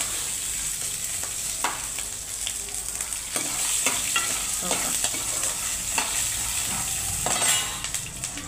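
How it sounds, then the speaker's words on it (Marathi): Peanuts and green chilies dry-roasting together in a pan, giving a steady dry sizzle and rustle with repeated scraping stirs and occasional clinks of a utensil against the metal, close and moderately loud, no talking. "शेंगदाणे मिरच्या सोबतच भाजून घेणार आहे"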